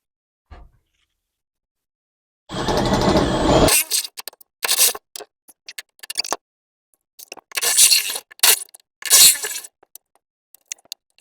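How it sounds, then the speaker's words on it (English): A step drill bit enlarges a hole in the metal of a vintage truck, one long grinding burst followed by several shorter drilling bursts with quiet gaps between, close and fairly loud, with no talking. "We're in here now with a step bit to get this hole to final size"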